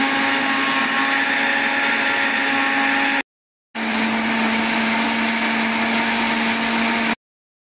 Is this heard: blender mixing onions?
yes